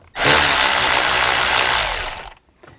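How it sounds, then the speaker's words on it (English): Power tool driving an 8mm socket to loosen a worm clamp on the air intake snorkel of a 2000-2006 Chevy Tahoe, one loud close whir of about two seconds that stops abruptly. "Loosen up this worm clamp."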